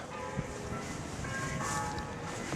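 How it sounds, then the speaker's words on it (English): Church bells ring steadily in the distance from a hilltop church near a castle in Menorca, their tones blending into a continuous wash of outdoor ambient noise. "Castle on the hill with the church bells going"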